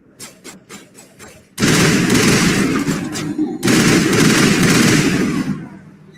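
Gunshots in Mass Effect: a few quick scattered pops, then two long, loud sustained bursts of rapid automatic fire separated by a brief gap, tapering off at the end.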